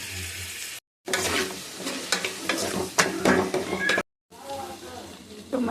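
Tomatoes and onions cook down in a pan, giving a steady soft sizzle with stirring scrapes, heard close and moderate in loudness, broken by two brief silent gaps.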